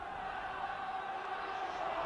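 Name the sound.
rugby league crowd of Hull supporters cheering at the Boulevard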